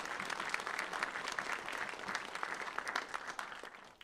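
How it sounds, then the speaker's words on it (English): An audience at a Libertarian Party Mises Caucus event in Texas applauds in a dense, continuous patter of clapping that holds steady for about four seconds, then tapers off, heard from a distance and fairly faint. "So round of applause for those guys."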